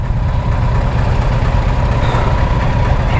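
A Triumph Tiger 900 Rally Pro motorcycle engine idles with a loud, steady low rumble close by, with no talk over it.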